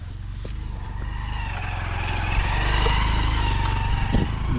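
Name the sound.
two-wheeler riding through village fields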